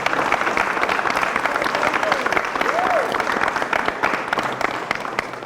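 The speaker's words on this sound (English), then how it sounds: "And he deserves a round of applause" High school audience applauding an athlete signing his college letter of intent, a steady dense roar of clapping with crowd murmur mixed in, sustained throughout.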